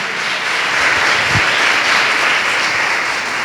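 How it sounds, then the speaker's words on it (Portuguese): A congregation applauds steadily inside the Igreja Internacional da Graça de Deus church in Codó, a loud, dense wash of clapping that fills the whole stretch without letup. "Vamos aplaudir o Senhor bem forte."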